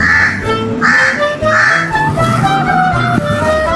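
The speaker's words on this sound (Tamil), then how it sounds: "காக்கா குயில் சவுண்டெல்லாம் கேட்குது" Loud, harsh crow caws repeat close by in a steady rhythm, with softer overlapping koel calls trailing after.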